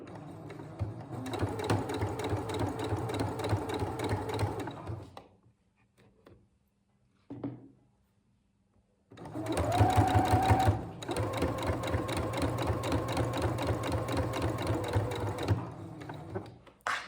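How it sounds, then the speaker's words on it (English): A sewing machine stitches bias binding onto Easter bunting in two long runs of fast, even mechanical chattering, close and clear, separated by a quiet pause with a few small handling clicks. "We're letting the machine feed it through."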